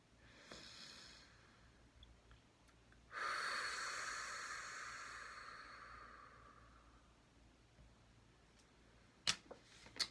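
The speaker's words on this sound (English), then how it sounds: "Take a deep breath whenever you're ready." A person takes one slow deep breath, a soft airy inhale swelling then easing into a long fading exhale, close and quiet with no talking, followed by a couple of faint clicks.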